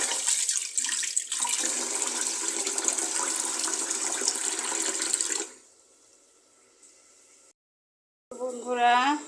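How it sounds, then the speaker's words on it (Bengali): Rice grains being washed in water in a kitchen, a steady rushing splash of running water for several seconds, then quieter handling and a brief pause before a louder burst. "একটু ভাতের চাল ধুয়ে দিচ্ছি"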